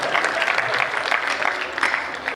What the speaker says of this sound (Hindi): ताली बजाओ अगर समझ रहे हो।